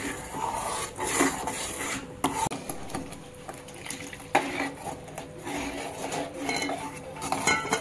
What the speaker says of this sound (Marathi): तेल सुटेपर्यंत ढवळत राहायचा